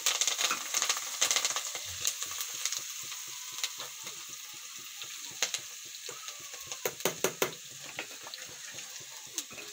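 Fenugreek seeds and curry leaves sizzle and crackle in hot oil with turmeric, a steady close frying hiss broken by sharp spattering pops that bunch together toward the end, with no talking.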